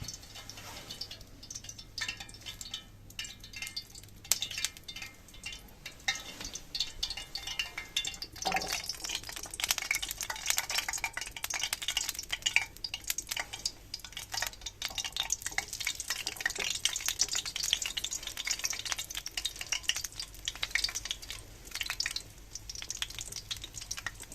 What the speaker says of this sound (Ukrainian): Олія розігрілася, тож запускаємо сосиски.